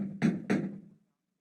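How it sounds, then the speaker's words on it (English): Two firm knocks on a wooden door, evenly spaced and close, as a sound effect in an audiobook dinner scene at a family home, followed by quiet. "Someone knocks at the door."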